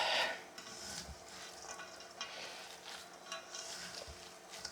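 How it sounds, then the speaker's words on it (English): Hands squelch and squish through raw mild Italian sausage stuffing for stuffed peppers in a bowl, a close, soft, wet mixing sound that repeats steadily with no talking. "I'm going to dig my hands in and mix this all up"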